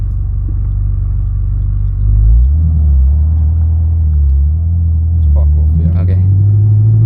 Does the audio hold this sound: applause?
no